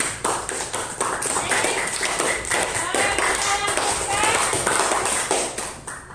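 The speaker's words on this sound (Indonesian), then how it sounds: "Tepuk tangan dong semuanya" A classroom of students claps hands together, a steady dense patter of many hands close by that lasts several seconds.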